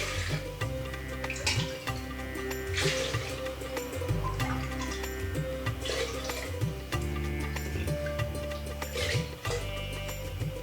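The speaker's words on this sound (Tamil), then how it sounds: "இப்போ இதில் 1 கப் அரிசிக்கு ஒரு 8 கப் அளவு நான் தண்ணி சேர்த்துறேங்க" Water poured into a cooking pot, about eight cups for one cup of rice, while preparing sweet pongal; a steady running, splashing flow with small clinks of the vessel, close and moderately loud, with no talk.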